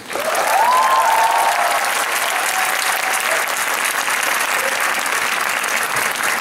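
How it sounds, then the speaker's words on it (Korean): Theatre audience at a Catch Me If You Can musical performance claps in a sustained, full round of applause, with a brief high whistle or cheer near the start rising above the steady clapping. "여러분들한테 박수를 보내고 싶습니다"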